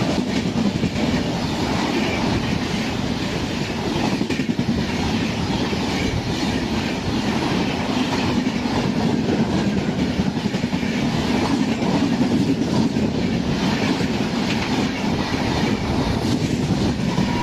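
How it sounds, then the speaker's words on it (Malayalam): The weekly Indore–Kochuveli Superfast Express rolls past at Kaniyapuram, its wheels clattering rhythmically over the rails beneath a steady, close, heavy rumble that holds for well over fifteen seconds. "ഈ വരുന്ന വണ്ടി 209-33 ഇൻഡോർ കൊച്ചുവേളി സൂപ്പർഫാസ്റ്റ് എക്സ്പ്രസ് ആണ്"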